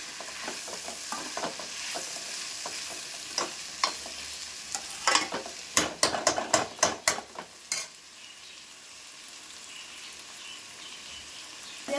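Vegetable fried rice stirred in a hot pan, a steady frying sizzle with bursts of utensil scraping and stirring clatter mid-clip, close and alone without talk.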